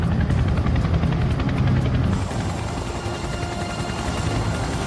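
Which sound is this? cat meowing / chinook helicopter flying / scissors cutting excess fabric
chinook helicopter flying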